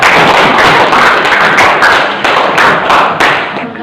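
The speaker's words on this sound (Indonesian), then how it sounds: "Tepuk tangan untuk kelompok." A group of students at a classroom presentation claps loudly and continuously for several seconds, the dense crowd clapping close and steady before tapering off at the end.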